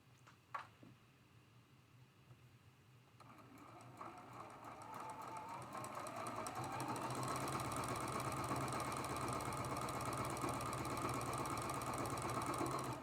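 A sewing machine stitches light quilt fabric with black thread, its motor starting softly and building into a steady, rapid, close-up mechanical whir that runs on evenly to the end.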